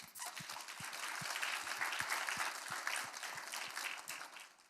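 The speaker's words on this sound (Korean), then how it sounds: "한번 박수 한번 보내드릴까요?" An audience at a Korean digital humanities winter school lecture claps together in steady, fairly quiet applause lasting a few seconds before fading.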